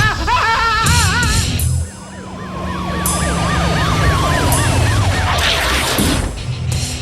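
A fire truck siren from the animated cartoon Transformers Animated wails loudly and continuously, with rising and falling sweeps that repeat over a dense, busy soundtrack of other sounds and no dialogue.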